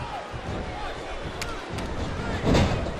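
Arena crowd in the wrestling game SmackDown vs Raw 2008 roars steadily as a broad wash of cheering and babble, swelling briefly louder near the end, with a couple of sharp slaps or impacts cutting through.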